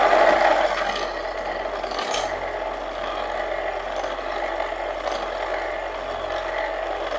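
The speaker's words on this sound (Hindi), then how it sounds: "अब इसमें डालेंगे ग्राइंड की हुई चीनी, फिर से इसे मिक्स करेंगे।" Ground sugar is stirred into cream for a fruit chaat, a continuous rubbing, scraping mix of utensil against bowl, steady and close with no talk.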